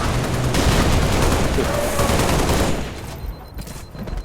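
Gunfire in the Halo Reach campaign mission Noble Sacrifice, loud sustained automatic fire with heavy rattling bursts and booms that thin out toward the end.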